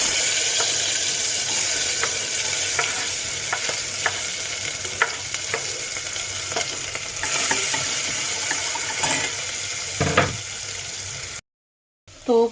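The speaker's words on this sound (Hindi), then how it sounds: "देखो मेरे ऑयल में से ना धुआं निकलने लग गया, तो मैं इसको डाल देती हूँ।" Green chillies and cumin seeds sizzle hard in smoking-hot oil in a home kitchen, a steady close crackling hiss with scattered pops and stirring scrapes, cutting out briefly near the end.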